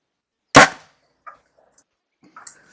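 An archery shot in a recurve match, heard as one sharp loud crack of the arrow striking the target, followed by a few faint ticks and small knocks in otherwise near-silence.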